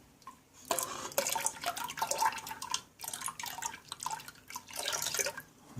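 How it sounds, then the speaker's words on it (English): Citric acid solution poured into milk for homemade mozzarella, giving close, gurgling and splashing liquid pours in several bursts with brief pauses, trickling and dripping sounds in a quiet kitchen, no talking. "we add the citric acid."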